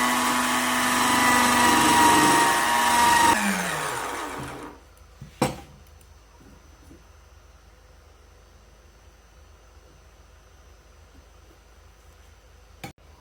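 A wooden piece for a handmade wand spins on a lathe, a loud whirring hum with scraping that stops after a few seconds, followed by a sharp knock and near quiet.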